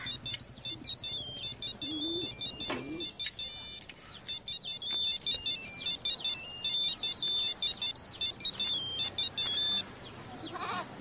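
A telephone rings over and over in a rural home, a repeating electronic trill in steady bursts, with faint background sounds and a brief voice beneath it.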